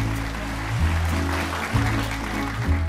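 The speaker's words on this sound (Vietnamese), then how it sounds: "Vỗ tay chúc mừng cho hạnh phúc giữa Pha và Hảo" A studio audience applauds a newly married couple on a dating show, the clapping a steady wash of noise over a lower, shifting musical tone.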